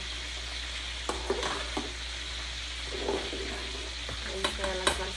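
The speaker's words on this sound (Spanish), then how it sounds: "Ahí está la salsa hirviendo, la arroz hirviendo." Sauce and rice bubbling in a pan on the stove while fish with egg is being cooked, a steady sizzling frying hiss with occasional stirring scrapes and clinks, close and continuous, no voices.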